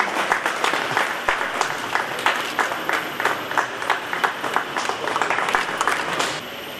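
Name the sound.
applause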